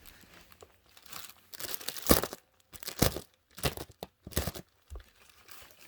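A cardboard box is cut open by hand, giving several short bursts of tearing and crinkling with brief pauses between them, close and fairly quiet.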